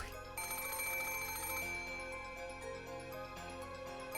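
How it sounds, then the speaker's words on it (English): A telephone rings in the Umineko visual novel, a sustained electronic bell tone with shimmering harmonics that holds and then pulses, loud and alone with no voices. "the ring of the phone, which had once sounded like a scream for help, now started to sound like a ghastly lure from some unknown person"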